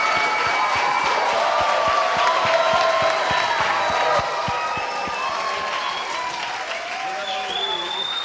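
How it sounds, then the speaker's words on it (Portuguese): A church congregation claps loudly and rhythmically together, a dense, even beat of many hands close by, with voices and cheering mixed in and the clapping easing slightly toward the end. "Vamos aplaudir o Senhor bem forte."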